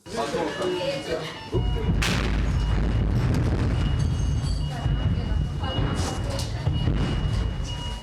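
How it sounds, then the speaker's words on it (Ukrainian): Heavy booming blasts and crashes of cluster munitions rumble nearby in quick succession, sustained and loud, with voices faintly present under the din. "Поряд розриваються касетні снаряди"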